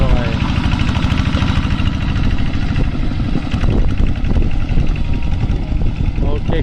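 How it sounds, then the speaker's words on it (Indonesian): Kubota tractor engine chugging steadily while plowing soil from the edge of a rice field, a loud continuous rumble close by with a voice talking over it. "Proses menyingkal tanah dari tepi menggunakan singkal tanah singkal traktor anti lengket ya guys."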